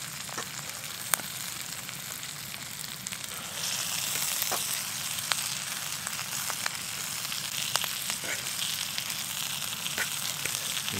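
Puha greens sizzling and frying over a bush campfire by a creek, a steady close hiss with scattered sharp crackles and pops throughout, no talking.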